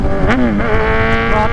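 A car engine revs hard as the throttle is blipped, a loud, continuous snarling drone whose pitch swoops up and down, close by and heard on its own without voices.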